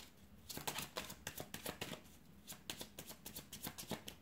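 Tarot cards are shuffled and drawn by hand, a rapid run of soft papery riffles and flicks in a steady rhythm, close but quiet, with no voice over it.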